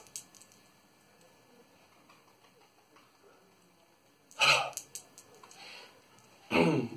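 A passive, relaxed breath out as the heels drop during a heel-pounding exercise: two short, breathy, soft exhale bursts a couple of seconds apart over a quiet room background.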